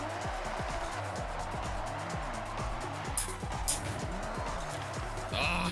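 A race car drifts in Forza Horizon 6 with a steering wheel. Its engine drones steadily while tires squeal in repeated sweeping bursts, and a few brief bright scrapes break through the noise.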